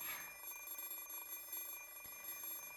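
Quiet electronic alarm clock ringing in the Fate/Stay Night video game, a faint steady high-pitched tone persisting under a low hum with no talk.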